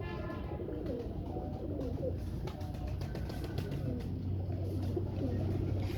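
Low, soft pigeon coos repeat through steady background bustle, with a faint chirp here and there; no one speaks.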